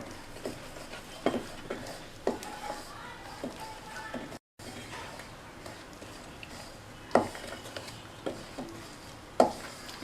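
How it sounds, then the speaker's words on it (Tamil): Jaggery syrup is stirred into flour for athirasam dough, giving quiet, intermittent scraping and soft knocks of a utensil against the bowl, with occasional sharper clicks. "இந்த பாகை இதில் கொஞ்சம் கொஞ்சமாக சேர்த்து அப்படியே கிளறிடலாம்."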